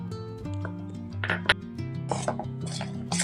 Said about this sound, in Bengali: ব্যাটারটা কিন্তু খুব ভালো করে ফেটিয়ে নিতে হবে।